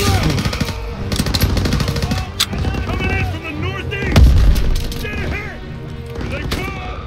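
Gunfire in Call of Duty WW2, loud sharp shots and bursts cracking repeatedly among mechanical clatter and explosive thuds, with a voice speaking at times over the battle.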